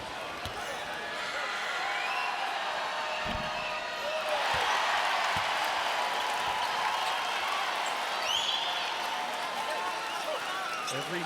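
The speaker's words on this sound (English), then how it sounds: "Every make or miss you're going to hear cheering in this type of setting" Crowd cheering at a men's college basketball game between Tulsa and Wichita State, a broad arena roar that swells in the middle and holds, with scattered ball bounces and sneaker squeaks underneath.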